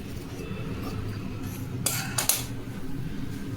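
Scissors cut blouse fabric during tailoring, heard as two quick, crisp snipping bursts close by against a low room hum, with no talk.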